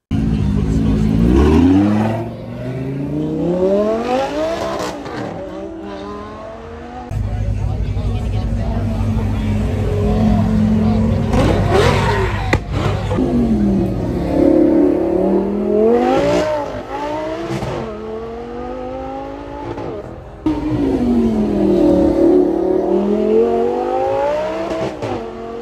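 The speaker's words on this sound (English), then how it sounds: "we have a flame-spitting Lamborghini Gallardo." A flame-spitting Lamborghini Gallardo supercar at a festival of speed revs hard in repeated rising sweeps, loud and close, with a steady idle between blips and crowd or announcer talk in the background.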